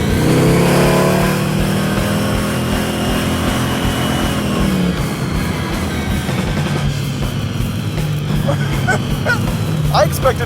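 Draguar race car on a track, its engine roaring hard under acceleration with rising then falling pitch, loud and close from inside the cabin, while people talk excitedly over it.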